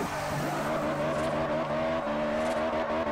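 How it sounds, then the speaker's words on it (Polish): A Honda S2000's VTEC engine in the Forza Horizon racing game revs steadily with a rising, buzzy exhaust note, close and continuous, with faint tire squeal alongside. "Świetnie brzmiący silnik V-Tech"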